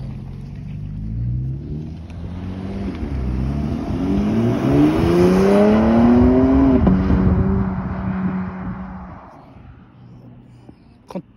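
A car engine revs up from a low rumble, rising steadily in pitch and loudness to a strained peak, then drops off abruptly and settles back to a quieter idle.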